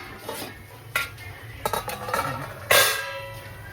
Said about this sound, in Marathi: याच्यावर थोडं झाकण ठेवतो आणि वाफेनं होऊन जाईल हा राहिलेला सगळा.